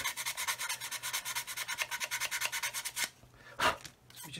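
A thin, hard sanding stick rubbing a plastic model kit part flat, a Roden C-141B Starlifter, giving a steady rhythmic rasp of quick back-and-forth strokes up close, then a pause and a couple of brief scrapes.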